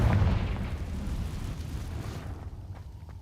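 A booming blast from the Confringo fire spell in the Hogwarts Legacy video game, a loud low burst at the start that decays into a rumbling tail with a few faint clicks afterward.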